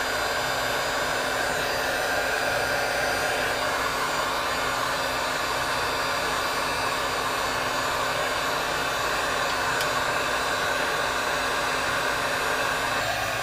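A heat gun or hair dryer blows steadily and loudly while warming a 1988 USA Jackson Custom Shop bass guitar, a constant whooshing hiss with an airflow hum that doesn't let up.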